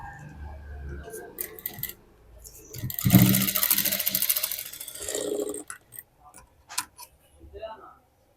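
A sewing machine runs in one loud burst of fast stitching across the back of a blouse, with a few short starts and stops around it and a voice talking in between.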